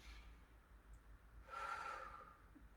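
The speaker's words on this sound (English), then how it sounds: "We're going to breathe in and out through our nose" A single audible nasal inhalation, soft and close, rising into a brief rushing sniff of air during a facial breathing exercise.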